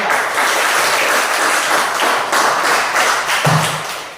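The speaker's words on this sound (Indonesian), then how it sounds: "Tepuk tangan buat kelompok 3." Sustained, dense clapping from a roomful of people, steady and loud throughout, fading slightly at the end.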